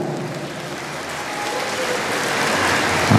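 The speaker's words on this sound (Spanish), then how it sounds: "que se escuchen fuertes los aplausos para la nueva autoridad" A crowd at the 2024 change-of-authorities ceremony in Lachirioag applauds the incoming officials, a dense, steady wash of clapping that swells slightly louder toward the end.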